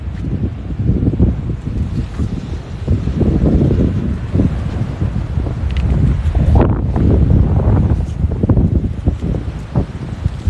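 Strong wind buffets the microphone at the Haulover Inlet jetty in Bal Harbour, Florida, a steady low roaring rumble lasting throughout, with gusty swells and faint rustle layered over it, and no talking.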